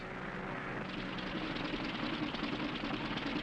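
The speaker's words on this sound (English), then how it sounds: "Engine trouble, sir. We'll have to go back to the field." A 1940s propeller airplane engine with engine trouble drones steadily in flight, a continuous rough roar that grows slightly louder and more ragged partway through, with no one speaking.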